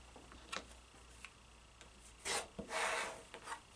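Fabric strips are trimmed with a cutter along a ruler, giving a few soft, close rasping cuts and small clicks over a quiet background, with a longer scraping stroke near the end.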